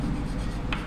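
Chalk or a marker scratching on a board during an electrochemistry lecture, a brief close run of rubbing strokes with a short sharper squeak near the end.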